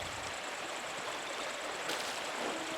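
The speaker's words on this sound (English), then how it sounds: "The waterfall." A waterfall in the video game Pentiment pours as a steady, soft, even rush of water with no pauses, faint and alone.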